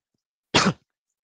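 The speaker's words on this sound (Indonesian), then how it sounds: "Maaf ya, lagi batuk." A single short cough, about a quarter second long, bursts out of silence close to the microphone during a talk on an automatic IoT plant watering system, with nothing before or after it.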